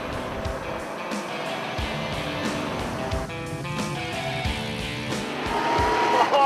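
An old military vehicle with a crash gearbox drives steadily, its engine droning loudly throughout, with a clear gear change partway through and engine revs rising near the end.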